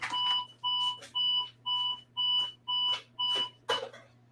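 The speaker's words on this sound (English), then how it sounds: "Hold on, it's my alarm." An alarm clock beeps in a steady repeating pattern, about eight evenly spaced electronic pulses each lasting roughly a third of a second, moderately loud and close, with no talking.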